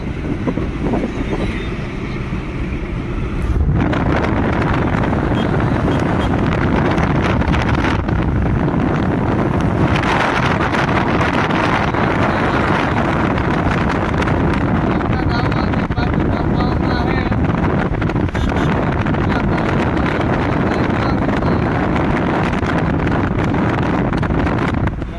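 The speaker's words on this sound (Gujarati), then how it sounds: "પવન આવે બહુ" Strong storm wind with rain buffets the microphone in a constant heavy roar, with faint voices partly buried beneath the gusts.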